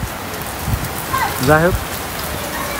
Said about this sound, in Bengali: ভালোই লাগলো বৃষ্টিতে ভিজতে, অনেকদিন পর বৃষ্টিতে ভিজলাম।